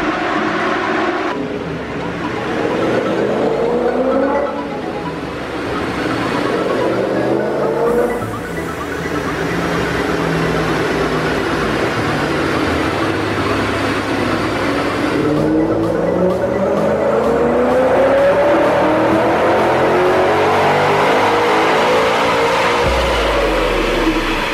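A supercharged BMW M5 engine revs hard during a boost test run, its loud, sustained roar rising and falling through repeated pulls with rising pitch sweeps, no talk over it.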